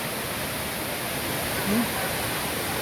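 A tall waterfall plunges steadily, its broad, even roar filling the air without a break, while tourists gather nearby; a brief voice rises faintly over the constant rush.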